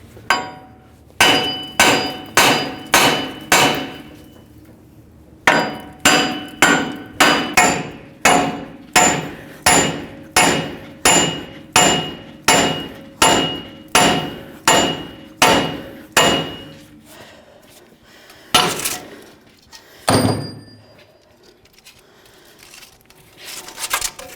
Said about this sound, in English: This can easily be done with a hammer. Give it a couple bonks, downward and upward, trying to rock it back and forth